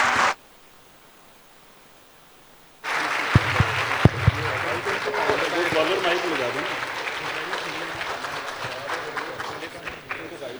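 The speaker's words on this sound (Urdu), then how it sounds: "میں حاضرین اور سامعین سے درخواست کرتی ہوں کہ ہمارے پینلسٹ کا بھرپور انداز سے ویلکم کریں اور تالیاں بجائیں۔" An audience at a university panel event claps to welcome the panelists, a short burst, then a near-silent gap, then sustained even applause that carries on to the end.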